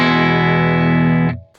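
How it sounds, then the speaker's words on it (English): A Whitfield Telecaster rings out through a Gamechanger Audio Light Pedal into a Fender Super 210 amp, one sustained clean chord that holds evenly, then cuts off abruptly into a brief reverb tail. "I've got my Whitfield Telecaster plugged into the light pedal and then into a Fender Super 210"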